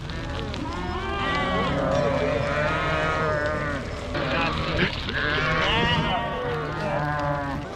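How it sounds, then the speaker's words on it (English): A herd of sheep crowds along a road, bleating continuously with many overlapping calls close by, while hooves and movement shuffle underneath and people talk. "we just kind of run up on all of this sheep going through the roads"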